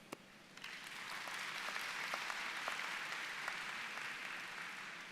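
An audience at a high school graduation ceremony breaks into applause that swells after a sharp opening clap and holds steady and fairly distant, with no talking.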